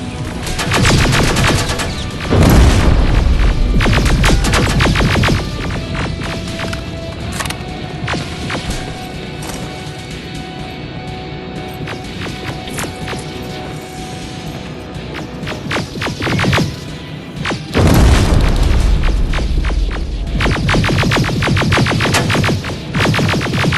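Video game battle in Terminator: Resistance, with dense rapid automatic gunfire and heavy bursts. Loud volleys open and close the passage, and steadier rumbling firefight fills the middle with no pause.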